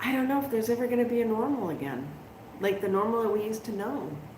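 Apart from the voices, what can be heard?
No everyday noises stand out.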